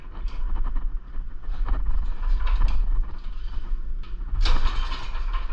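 A small snowblower engine is cranked over with compression, a rough, rhythmic chugging and mechanical rattling, steady throughout with a louder puff near the end.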